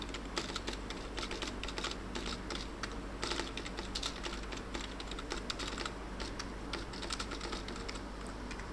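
Rapid, uneven typing on a computer keyboard goes on continuously while an array algorithm is being coded, a close and quiet clatter of keystrokes with no voices.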